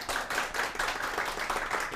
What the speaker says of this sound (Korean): 강연을 박수로 청해 보겠습니다